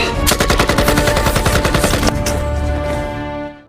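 Loud, dense automatic gunfire from an action film, rapid machine-gun bursts rattling continuously for several seconds before a heavy final blast fades into a decaying rumble.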